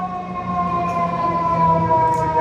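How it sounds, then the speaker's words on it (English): An FDNY fire truck siren wails steadily on a city street near an outdoor market stall, a loud sustained tone holding throughout. "Oh wait, oh, it's a fire truck."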